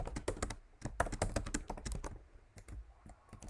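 Typing C code on a computer keyboard, rapid close clicking keystrokes in quick uneven runs with a brief pause near the middle, quiet and without speech.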